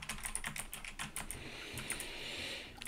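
Rapid keystrokes on a computer keyboard while entering a spreadsheet shortcut, a close, busy run of clicks and taps with no voice.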